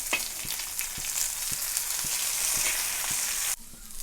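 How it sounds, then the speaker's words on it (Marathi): Okra frying in oil on a tava sizzles with a steady, loud hiss, punctuated by regular soft taps roughly every half second, then the sizzle drops sharply near the end. "हे दोन्ही साईडनं भाजून छान असे तेलात तळून घ्यायचे"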